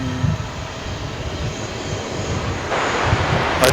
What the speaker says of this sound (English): A Dash 9 Dreamliner.